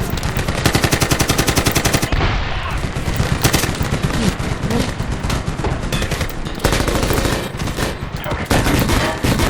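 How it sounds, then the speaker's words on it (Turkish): Dense, continuous machine gun fire in the Medal of Honor 2010 video game, loud and sustained throughout, with heavy bursts layered over a constant roar of combat. "Şunlara bak bir de makineli silah almışlar bizi sıkmaya çalışıyorlar."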